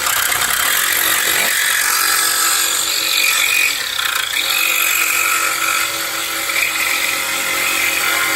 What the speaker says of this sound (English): we're going to take our jigsaw, be sure that you have eye protection, cutting metal, and we're going to cut this line.